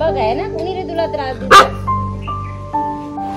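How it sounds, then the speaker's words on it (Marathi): Dogs let out a sharp bark amid ongoing talk, one loud close burst standing out while people speak before and after it. "कुत्रे विनाकारणाचे भुकतायत"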